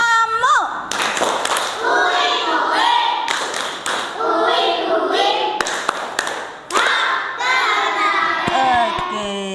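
Schoolchildren in an elementary classroom clap in a mosquito-clap ice-breaking game, sharp bursts of group clapping mixed with excited children's voices and shouts, with loud talk and singing-like chanting over it.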